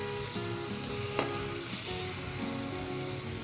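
White brinjal masala, Punjabi safed baingan bhujia, sizzles steadily in the pan while coriander is mixed through. It is a continuous, even crackle at close range with no talking.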